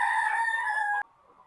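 A native country chicken crows on a poultry farm, a loud, close call that holds steady for about a second and then cuts off abruptly, leaving faint background murmur.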